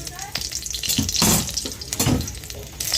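Onion, dried and green chilies and crushed garlic frying in oil, a close sizzle with stirring scrapes and louder spitting bursts rising and falling, no speech.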